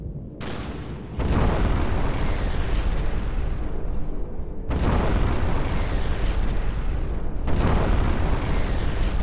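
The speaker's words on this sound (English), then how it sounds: "And now we fire left side mortars." Heavy booming blasts as a Garry's Mod airship fires its left side mortars, three loud explosions a few seconds apart, each followed by a long rumbling roar.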